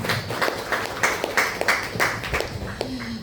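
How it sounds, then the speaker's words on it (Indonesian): An audience at a school principals' seminar gives a short burst of steady, rhythmic clapping for the guest speaker, fairly close and moderately loud before it tapers off. "Boleh tepuk tangannya Bapak Ibu?"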